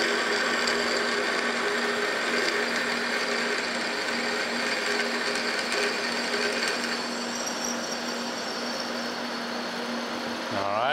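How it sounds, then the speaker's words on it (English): A 9/16 inch drill bit enlarges the bore of a stock Boston Gear, giving a steady, close machine whine with a constant hum that holds for the whole stretch and tapers slightly at the end, with no talking. "I got a 9/16 inch drill bit in here. And we're just gonna go ahead and enlarge this hole on up to size."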